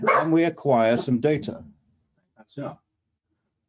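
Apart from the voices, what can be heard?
dog barking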